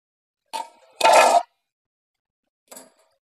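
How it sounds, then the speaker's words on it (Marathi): A lid lifted off a cooking pot of simmering eggplant: a short metallic clink, then a louder ringing scrape as it comes free, and a faint tap moments later, close and clear in a quiet kitchen. "झाकण काढून बघायचंय."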